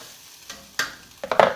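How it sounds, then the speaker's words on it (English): Onions with ginger and garlic in oil in a pan, stirred with a few scraping clatters and short bursts of sizzle, close and fairly quiet, with no one talking. "And I'm going to saute these onions until they get a little soft."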